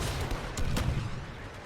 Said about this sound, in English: Ion cannon activated! Let's take him down.